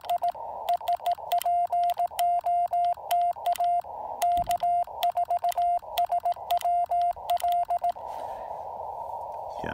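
Morse code CW call keyed on a Yaesu FT-817ND ham radio, a clear steady sidetone beeping in rapid dots and dashes at a moderate level, with a brief thump midway and faint hiss at the end.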